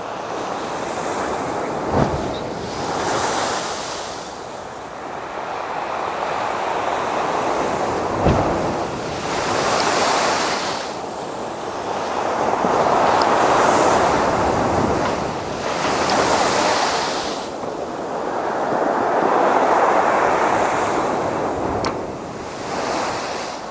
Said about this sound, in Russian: Вот такие здесь волны.